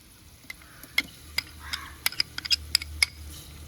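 Garlic and ginger paste being stirred in a pan with a metal spoon, giving a run of sharp scraping clinks against a soft low background; no talking.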